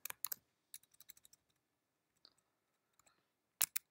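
Short bursts of computer keyboard typing, close and crisp, as code is entered for an Apple Watch app. Quick clusters of key clicks are separated by quiet gaps, and a couple of louder strokes come near the end.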